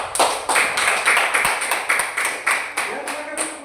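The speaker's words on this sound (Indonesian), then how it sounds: "Tepuk tangan." A small classroom group claps after a group presentation, a fairly close, rhythmic run of repeated claps at an even beat, roughly two per second, with faint voices underneath.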